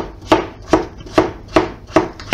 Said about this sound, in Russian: Картошку нарезаем кубиками.